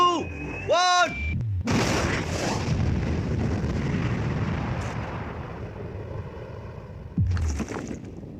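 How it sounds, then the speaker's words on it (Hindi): A massive blast set off on a safe ringed with bombs erupts after a countdown, a loud sustained roar and rumble that slowly decays over several seconds, with brief voices before and at the end. "आपने अब तक जितने भी धमाके देखे हैं, अगले वाला धमाका उन सबसे बड़ा होने वाला है।"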